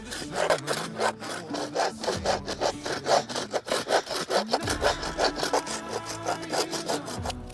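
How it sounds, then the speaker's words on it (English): Handsaw cutting into scrap wood at about half to five-eighths inch depth, a fast steady rhythm of close, rasping back-and-forth strokes with no talking. "measure over what looks like about 5/8 or 1/2 inch and cut into the wood the same depth"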